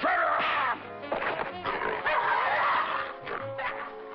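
Cartoon dog fight with a boxer dog: loud, continuous barking, yipping and scuffling crashes fill the scene, dense and close throughout.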